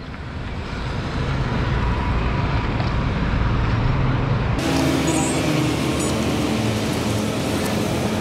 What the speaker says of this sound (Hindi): बस आपको बाइक के नज़दीक आना है और फिर सेल्फ स्टार्ट देना है, बाइक ऑटोमेटिक स्टार्ट हो जाएगा।